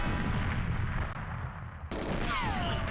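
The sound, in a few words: rocket launcher explosion in GoldenEye 007 video game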